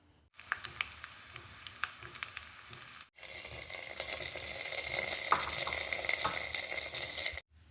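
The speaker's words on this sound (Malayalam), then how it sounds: "ഇനി നമുക്ക് ഇതിലോട്ട് കടുക് താളിച്ച് ചേർക്കാം." Mustard seeds temper in hot oil for sambar, a brief sizzle that cuts out, then returns as a fuller, louder crackling hiss for several seconds before stopping abruptly.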